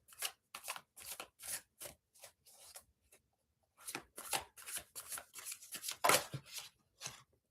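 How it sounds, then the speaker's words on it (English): Tarot cards are pulled and handled, with a quick series of crisp close-up shuffling and flicking sounds in irregular bursts, separated by short pauses. "Let's pull some cards for Archana."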